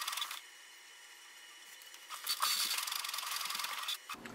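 A Canon Pixma TR8622a printer runs a two-sided print job. It gives a short mechanical whir, a quiet pause, then a longer buzzing, rattling feed pass, all close and with no talking.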